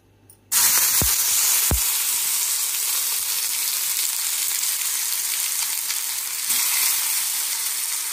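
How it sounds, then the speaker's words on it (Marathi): Tomatoes dropped into hot oil in a home kitchen, a loud burst of sizzling that starts suddenly and then holds as a steady, bright frying hiss, with a couple of soft knocks near the start. "आता तेल तापलं आहे, त्याच्यात टोमॅटो"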